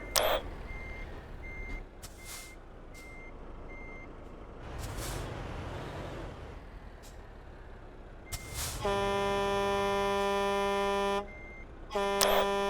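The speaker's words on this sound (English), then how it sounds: "Thank you for the long truck horn, over." Long, steady truck air horn blast in a truck-driving video game, loud and sustained for a couple of seconds, then cut and briefly repeated, following engine rumble, air brake hiss and scattered beeps.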